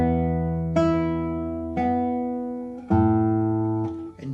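Guitar notes from the first measure of a beginner right-hand exercise, with a low bass note muted by the thumb: four plucked, ringing attacks spaced about a second apart, each decaying in turn, played solo and close.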